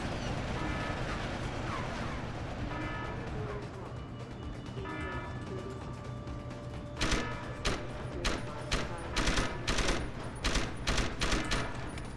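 Enemy gunfire in Deus Ex: Human Revolution arrives as rapid bursts of shots in the second half, loud and sharp over a low mechanical hum, after a quieter stretch of ambient game sound.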